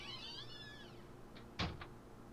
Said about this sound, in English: Good use of a door sound, though.